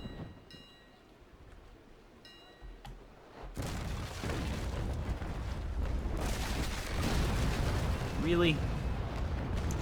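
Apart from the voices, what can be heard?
ship cannon fire in Naval Action video game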